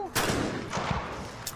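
A shotgun fires in a women's trap shooting final at the 2021 Chinese National Games, giving one sharp report followed by echoing reverberation at a shooting range, moderately loud, with faint crowd or background noise.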